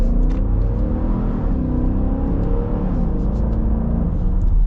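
A 2022 Dodge Durango R/T with an 8-speed automatic accelerates hard, its engine rumbling and revving loudly and steadily from close by. There is no talk.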